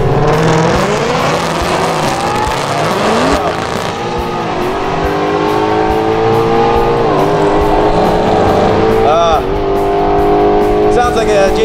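A 900-horsepower GT500 Mustang race car runs down a drag strip, its loud engine roaring steadily with rising and falling pitch throughout, with a brief squealing sweep near the end and crowd and announcer talk mixed underneath.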